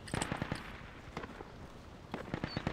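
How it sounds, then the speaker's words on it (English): Bursts of distant AK rifle fire from the tactical shooter Project Reality come in short clustered volleys, a pause, then another rattling string, faint and far off. "I am hearing AK fire pretty far south near one."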